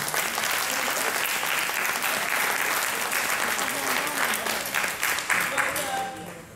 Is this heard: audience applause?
yes